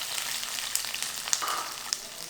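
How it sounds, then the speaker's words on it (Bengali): Onion sizzles in hot refined oil in a pan, a bright steady frying hiss with a few sharp pops and crackles scattered through, close and alone. "তেল গরম হয়ে গেছে, এর মধ্যে পেঁয়াজটা দিয়ে দিলাম।"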